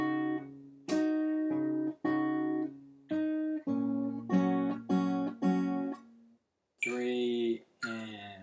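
Fingerstyle acoustic guitar plays a section of a song as a lesson, with plucked chords in a steady rhythm of short repeated notes, fairly quiet and close, with a brief pause before a final chord.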